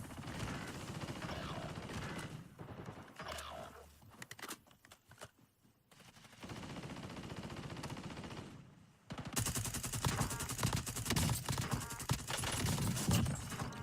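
Rapid gunfire from a Call of Duty match in a CDL championship setting, bursts of automatic shots rattling in clusters, dropping to near silence briefly before louder, denser firing resumes near the end.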